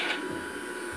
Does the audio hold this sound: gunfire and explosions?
no